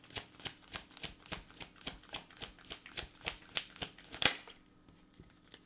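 Tarot cards shuffled by hand in a steady run of about a dozen crisp, evenly spaced riffling bursts, close and clear with no talking, ending on one sharper snap and then quiet.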